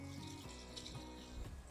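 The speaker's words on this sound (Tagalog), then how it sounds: "buhos natin yung leftover sopas natin." Leftover sopas soup is poured through a strainer into a bowl, giving a faint, close, continuous splashing trickle of liquid.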